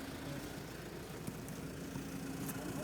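A low, steady engine idle rumbles continuously nearby, with faint rattling and small knocks over the hum.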